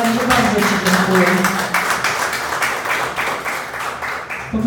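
Audience at an author's poetry evening applauds the poet Leonard after his reading, a dense, steady patter of clapping close by that holds for several seconds while voices talk over it.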